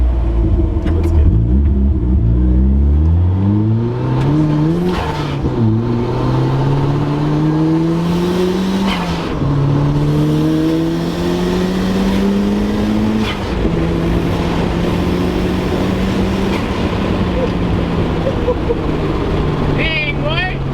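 A boosted Mazda Miata engine runs a full pull, revving hard and climbing through several gears with rising pitch that drops at each shift, loud and close from inside the car, with occasional voices over it.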